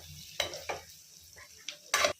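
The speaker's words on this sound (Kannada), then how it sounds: "ನಿಧಾನಕ್ಕೆ ಫ್ರೈ ಮಾಡ್ಕೋಬೇಕು." Boiled egg halves frying slowly in a pan, stirred now and then, give short, separate bursts of scraping and sizzling over a quiet background, with the loudest burst near the end.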